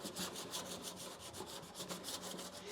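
Sandpaper of 180 grit is rubbed across a car firewall in quick, regular back-and-forth strokes, a soft, close rasping rhythm with no voices.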